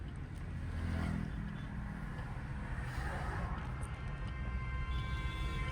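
Car pulling away slowly uphill with the clutch held at the biting point, a low steady engine drone with road rumble, moderately loud and continuous.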